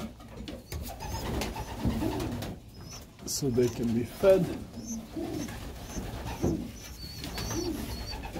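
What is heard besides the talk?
young pigeons cooing in the loft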